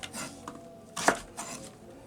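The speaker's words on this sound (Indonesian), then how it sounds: "Kita potong-potong jadi lebih kecil agar mudah." Ingredients being chopped into small pieces on a kitchen board, a few separate knife strikes spaced irregularly, one sharper and louder in the middle, with light clinks between.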